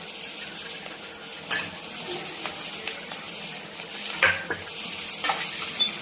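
Potato pieces with turmeric stirred in a frying pan: a quiet, steady sizzle with a few sharp spatula scrapes and knocks against the pan, close but faint, with no talking.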